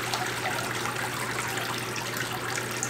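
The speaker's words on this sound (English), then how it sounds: "I'm going to lift the form straight up out of the water and I'm going to let it drain" Water streams and trickles back into a vat as a papermaking form full of wet paper pulp is lifted out, a continuous close splashing drain at constant level.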